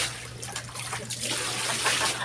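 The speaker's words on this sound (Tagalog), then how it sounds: "Tapos maglalagay tayo dito ng tubig." Water pours steadily into a laundry basin as a continuous splashing trickle for a couple of seconds, close and moderately loud, with no talk over it.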